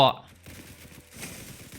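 Rapid bursts of gunfire from Roblox Hypershot: a loud shot at the start, then quick trains of clicky rounds in fast rhythm, fairly close, with a brief gap between volleys.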